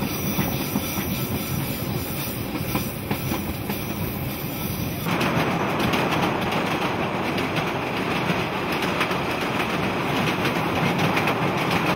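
A steam train runs on a New Zealand mainline, a loud continuous rumble of rolling wheels and carriages with a shift in tone partway through as the ride carries on.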